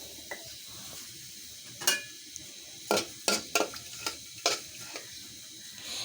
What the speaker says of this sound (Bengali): চুলোতে বসিয়ে দিয়েছি হাঁড়ি, হাঁড়ির মধ্যে দিয়ে দিচ্ছি তেল, দিয়ে দিচ্ছি গরম মশলা